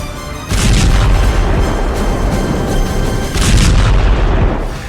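Hezbollah missile fire, with loud, continuous rumbling explosions and booming blasts that sustain heavily for several seconds.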